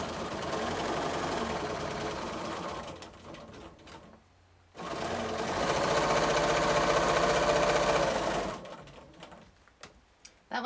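A sewing machine stitching free motion quilted feathers, running in two sustained whirring bursts of rapid stitching separated by a brief pause, then slowing to scattered clicks near the end, close and steady.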